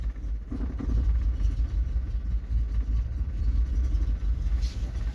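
Cold Mercedes E190 engine running with the gas pedal pressed, a steady low rumbling drone close by with slight swells in intensity, no talk.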